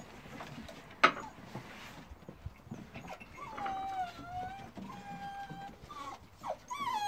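Small dogs whimpering and yipping in high, wavering cries, close by, with a sharp bump early on and a quiet room behind.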